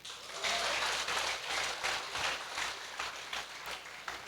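Brief bursts of clapping from a church congregation during a sermon, a moderate patter of hands that rises and ebbs in waves over a few seconds.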